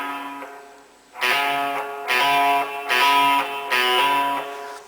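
Electric guitar plays a riff, with a picked note and then a quick hammer-on, repeated in bright, close strummed bursts with short gaps between them and no voice over it.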